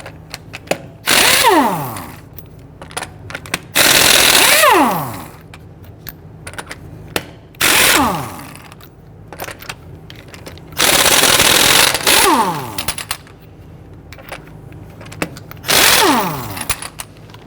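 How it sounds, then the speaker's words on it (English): An impact tool fitted with a 19mm socket loosening and removing the lug nuts on the rear wheel of a 2010-2019 Ford Taurus, firing in five loud, separate bursts of rattling hammering with pitch sweeps at spin-down, quiet gaps between them and no talk. "Using a 19mm socket, loosen and remove the lug nuts."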